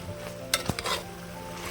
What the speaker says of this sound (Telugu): ఒకసారి కలిదిప్పుతున్నానండి.